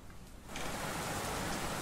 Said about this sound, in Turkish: Yine biraz sesleri kısmaya çalıştım burada. Yağmur sesini